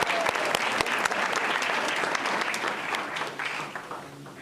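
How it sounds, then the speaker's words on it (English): An audience at a school board meeting applauds for a student, a dense steady patter of many hands clapping that slowly tapers toward the end. "A round of applause for Royce."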